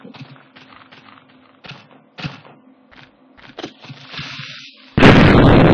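A loud blocky explosion bursts in a Minecraft game near the end, following a stretch of scattered clicks and soft in-game noises.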